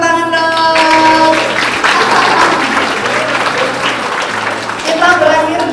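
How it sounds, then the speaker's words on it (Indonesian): Applause from a seated audience at a public speaking session at STMIK, loud and sustained for several seconds, with a host's voice speaking over the start and end of it. "kasih tepuk tangan dong"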